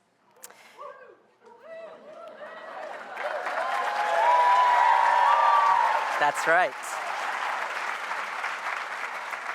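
A voice speaks briefly, then a large crowd bursts into loud sustained applause and cheering, with whoops rising over the clapping before it eases slightly.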